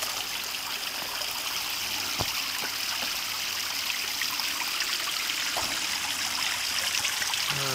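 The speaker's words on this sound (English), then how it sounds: "Stream is looking real good." Water flowing through a backyard pond stream, a steady close rushing trickle with bright splashing texture, continuous throughout with a few faint knocks.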